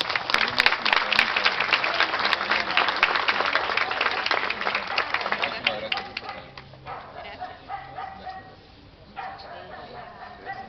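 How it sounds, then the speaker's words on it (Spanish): Crowd applause rings out during a Catholic street procession for Our Lady of Reconciliation in La Molina, dense and loud for several seconds before thinning into scattered claps, with voices and a few dog yaps mixed in. "¡Fuerte los aplausos!"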